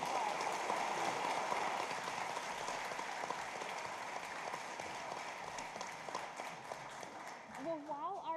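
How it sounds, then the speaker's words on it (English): Audience applause at a college live showcase, a steady broad clatter of clapping filling most of the clip before fading as a voice begins speaking near the end. "Everybody give Trip a round of applause."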